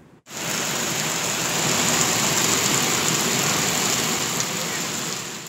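Heavy rain pours steadily at a hillside neighborhood in Olinda, a dense continuous hiss of downpour starting abruptly and holding loud and even throughout, with no voices.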